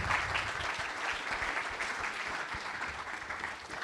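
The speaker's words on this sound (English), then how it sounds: "Could I get a round of applause for our fabulous panel?" A conference audience at a summit in Cannes gives a panel a round of applause, steady dense clapping filling the room at moderate loudness from start to finish.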